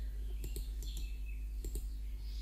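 Several sharp computer mouse clicks, in quick pairs, sound close by over a steady low hum while changing settings in Windows 10.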